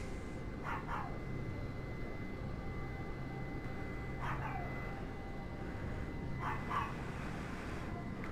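Dogs indoors bark in three separate short bursts spaced a few seconds apart, fairly near, over a steady background hum, with no talking.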